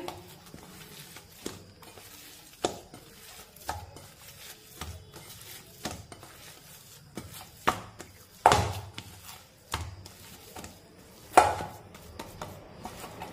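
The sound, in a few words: mixing dough with oil for shepu paratha by hand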